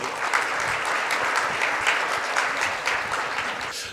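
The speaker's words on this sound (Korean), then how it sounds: "큰 박수로 맞이해 주시기 바랍니다" Audience at a business forum gives a steady, full round of applause welcoming a consulting firm's CEO to the stage, a dense even clapping that holds throughout with no talk.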